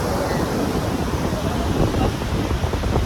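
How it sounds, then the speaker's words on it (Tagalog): Strong ocean waves wash onto the shoreline at Sabang Beach in a continuous broad roar, mixed with wind buffeting the microphone, loud and close for the whole stretch. "Sa shoreline, kung saan nakikita nyo na napakalakas ng waves."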